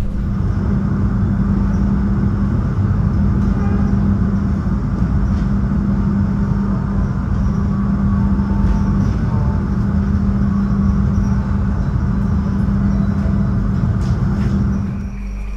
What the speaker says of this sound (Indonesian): Ini keretanya udah memasuki stasiun Kutoarjo